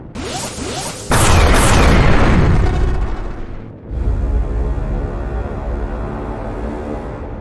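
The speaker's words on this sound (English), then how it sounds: "There was a third blast of ionic fire now." A science-fiction ion cannon blast erupts suddenly, a loud roaring boom with crackling whooshes that swells and decays, followed by a lower rumbling wash of energy that lingers to the end.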